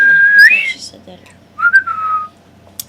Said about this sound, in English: you take a simp anytime the signature whistle is heard